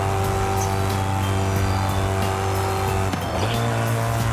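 A BMW M3 GTR engine pulls hard through the gears in a loud, sustained roar, with one brief dip in pitch as it shifts up before climbing again.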